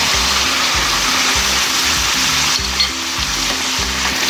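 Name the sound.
chicken karahi sizzling after adding ginger garlic paste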